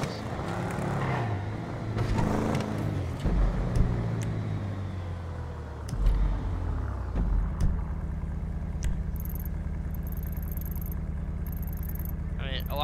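A police car cruises along, its engine and road noise a steady low drone that shifts to a smoother, constant hum midway, with people talking over it throughout.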